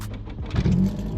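A neglected Nissan Pulsar SSS revs briefly as it pulls away on a drive, its engine note rising and swelling loud and close for about a second.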